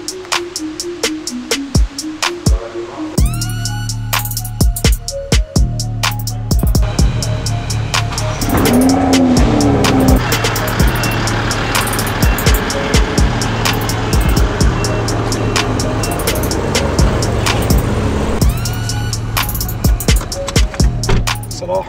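A 2022 Toyota GR Supra sports car runs close by, its engine rising and falling through revs with sharp repeated clicks and bursts, loud throughout and without talk.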